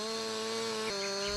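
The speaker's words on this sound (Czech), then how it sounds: "Přiložte pilu k boku kmene a proveďte první zápich špičkou lišty." A chainsaw plunges the tip of its bar into the side of a tree trunk, a steady loud buzzing whine with a brief dip in pitch as the chain bites into the wood.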